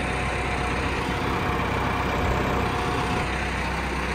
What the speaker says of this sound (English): I think the exhaust is your issue, it's broken off.